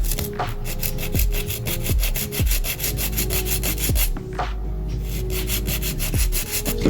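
Rhythmic rasping strokes of a nail file shaping an acrylic nail, close and steady, repeating about once a second with no talking.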